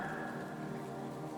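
Rain falls steadily through a forest of large trees, an even, unbroken patter of drops that sounds close and soft, with no talking.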